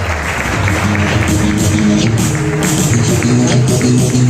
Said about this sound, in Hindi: एक बार चाहूंगा आप सबकी जोरदार तालियां एक बार प्लीज हो जाए।